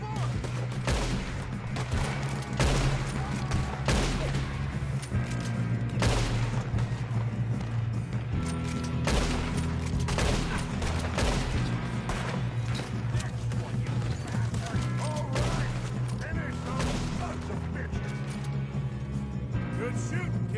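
Rapid gunfire rattles through a Red Dead Redemption 2 shootout, dense repeated shots and booms running throughout over a low droning score, with voices speaking intermittently.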